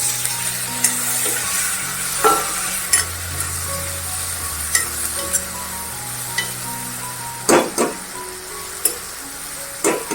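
Sautéing in a pan before potatoes go in for a ridge gourd gravy, a steady moderate sizzle with sharp intermittent clinks and scrapes of a spatula against the pan, close, with no voices.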